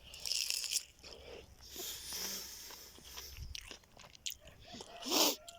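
Close biting and chewing of a ripe Early Red Haven peach, heard as a few wet crunches and smacking chews in short uneven bursts, with a sharp loud bite near the end.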